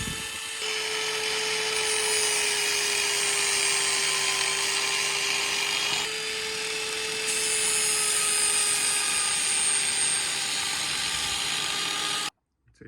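A power tool rounds off the edges of homemade carbon fibre engine mounts for a 2000 Yamaha YZ250, giving a steady, close, high-pitched whine that holds for about twelve seconds and then cuts out.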